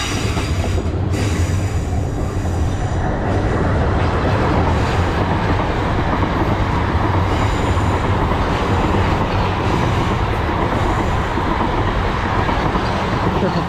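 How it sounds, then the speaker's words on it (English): A Weymouth to London Waterloo passenger train passes through a station at speed with a loud, continuous roar of wheels and rushing air, steady from start to finish, with a faint rhythmic rattle of rail joints. "We've also got a Weymouth to London Waterloo passing through the station."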